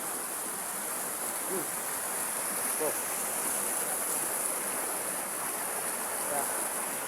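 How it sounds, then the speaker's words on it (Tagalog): The river at Bluerock rushes in a continuous broad wash of flowing water, steady and fairly near, with faint traces of a voice over it. "Yun po yung makikita nyo na yung agos ng tubig"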